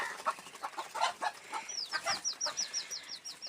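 Young chickens in a poultry coop with egg-laying hens, heard as close, rapid chirps and clucks repeating in a quick, steady series.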